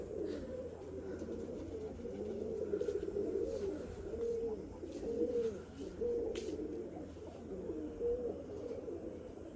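Several pigeons coo continuously near an open rooftop perch, their soft, rolling calls overlapping in a low, steady murmur, with faint bird chirps above and no voices.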